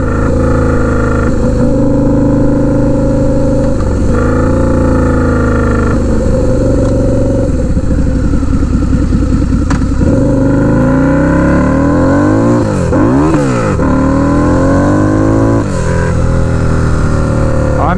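A turbocharged Harley-Davidson V-Rod Night Rod at 5 psi boost makes loud, close street pulls, its engine note climbing through the gears with sharp rises and dips between shifts, with a voice briefly heard under the roar.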